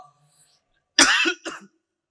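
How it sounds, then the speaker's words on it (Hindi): A single harsh cough, a short burst followed by a smaller second hack, close to the microphone in an otherwise quiet room. "इधर खांसी से कई दिनों से मैं भी बहुत परेशान हूँ"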